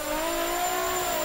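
A Nissan S15 drift car in a racing game runs flat out in sixth gear on a banked section, its engine a sustained, even high-pitched tone, loud and close, with no voices.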